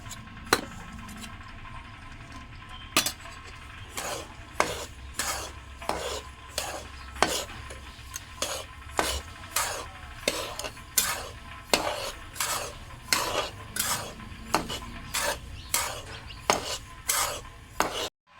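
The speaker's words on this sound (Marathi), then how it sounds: "सर्वात आधी आपल्याला एक किलो गरा भाजून घ्यायचा आहे" A spoon scrapes through a kilo of grated coconut dry-roasting in a pan, in repeated rhythmic strokes about once a second. The scraping is close and crisp over a faint low background.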